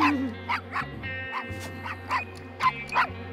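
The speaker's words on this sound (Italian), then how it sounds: "Fai tacere questa specie di cane!" Cartoon dog barking in a rapid string of sharp yips over a steady low hum, about seven barks spaced unevenly, close and fairly loud.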